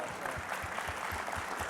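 Audience applause at a book-signing conversation event, a short stretch of steady clapping from a crowd, moderately distant and even, with no voices over it.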